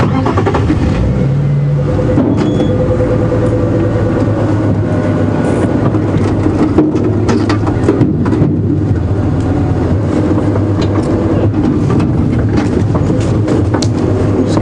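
A safari game drive vehicle pulls away through the bush at Djuma Game Reserve in the Sabi Sands, its engine rumbling loud and steady and close by for the whole stretch, with rattles and bumps along the track.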